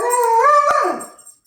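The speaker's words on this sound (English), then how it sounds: "Sorry about my dogs." Dogs howling close by indoors, a sustained rising and falling wail that swells and then fades away over about a second and a half.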